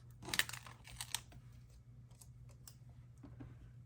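A planner sticker being peeled from its backing and pressed onto a planner page, with crisp crinkly paper rustles and taps clustered at the start, then quieter scattered clicks over a low steady hum.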